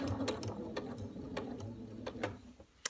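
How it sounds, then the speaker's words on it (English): A sewing machine finishes a seam on quilt fabric, stitching in a steady, close mechanical whir with rhythmic ticking of the needle and gears for a few seconds, then stopping. "I'm going to lift my presser foot up again, smooth my fabric out, and then I'm going to finish the seam."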